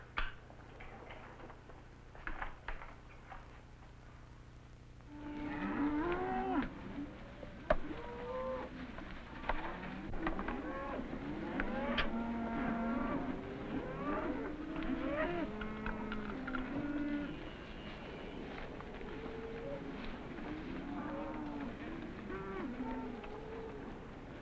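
Cows at a farm moo repeatedly after a quiet opening, with many overlapping low, drawn-out calls at varied distances forming a steady chorus.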